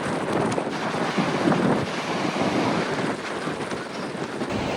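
Strong wind battering the microphone on the cliffs of the Great Ocean Road in Victoria, Australia: a loud, steady roar of gusts with surging buffeting and no voices.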